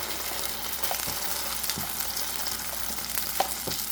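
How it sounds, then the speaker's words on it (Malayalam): Onion thokku fries in a pan with a constant soft sizzle, broken by several quick scraping stirs of a spoon, close and moderately quiet with no voices. "എല്ലാം കൂടെ ഒന്ന് നന്നായിട്ട് മൂത്ത് വരട്ടെ."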